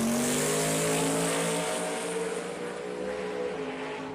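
Corvette in a drag race, a loud sustained engine roar with a steady, slightly shifting pitch as the car runs down the strip, heard alone without talk.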